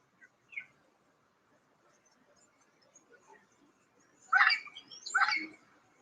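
Parrots in a garden: a few distant squawks early on, then two loud, harsh parrot calls close together near the end, against a mostly quiet background.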